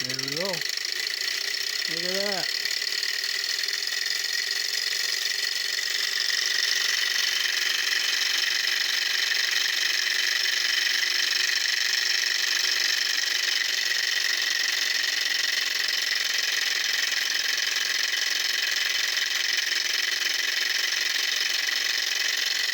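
A small Stirling engine with a little LED on the back runs steadily, giving a continuous mechanical whirring with a bright ringing hum. Someone speaks briefly at the very start.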